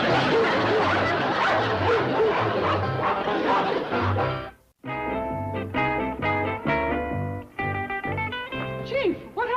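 Several dogs bark and yip excitedly in a rapid, overlapping burst, close and loud, with a brief pause before barking resumes among whimpers and noisy household commotion, from a 1960s sitcom scene.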